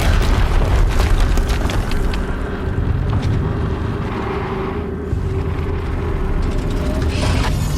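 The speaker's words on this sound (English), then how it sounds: "Another explosion." Explosions in the video game Horizon Zero Dawn, a loud, dense burst of booming blasts at the start, with rumbling debris and clattering impacts continuing underneath and more crashing bursts near the end.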